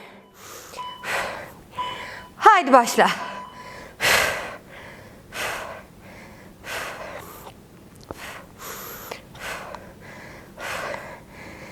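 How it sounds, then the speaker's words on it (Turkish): Repeated heavy, forceful breaths during a HIIT cardio workout, rhythmic gasps and exhalations through the mouth spaced every second or so, with a brief spoken cue near the start. "Burnundan nefes al. Ağızdan ver."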